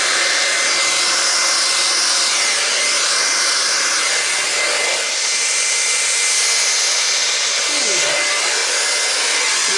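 A hair dryer blows air over paint with a loud, steady roar close by, its pitch shifting slightly as it moves.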